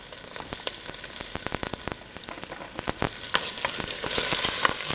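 Onions sweating in hot oil in a pan for beet borscht, a close, steady crackling sizzle with sharp pops scattered throughout that grows slightly louder toward the end.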